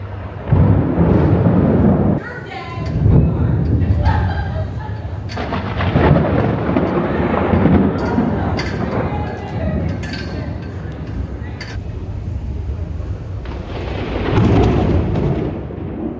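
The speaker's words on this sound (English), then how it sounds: "Thunder and lightning." Thunder rolls through a stormy night, with loud, sustained rumbling and several sharp cracks and booms that swell and fade over a steady wash of rain.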